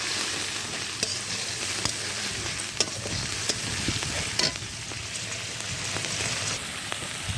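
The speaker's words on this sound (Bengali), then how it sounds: "পেঁয়াজ বাটাগুলো মাঝারি ধরনের ভেজে নেব" Onion paste frying in a pan, a continuous close sizzle and crackle with occasional spitting pops and soft stirring scrapes running steadily throughout.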